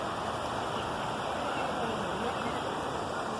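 A creek flows close by with a loud, steady rush of water, continuous and unbroken throughout.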